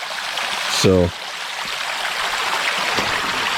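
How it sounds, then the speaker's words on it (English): A creek flows with a steady, even rush of water heard nearby at dusk, and a brief spoken word cuts in early. "I'm gonna take a little look at the creek here."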